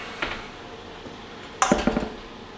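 A spoon stirs sour cream into melted chocolate for frosting in a bowl, giving a soft clink early on and then a quick cluster of louder scrapes and taps against the bowl, close by with no talk.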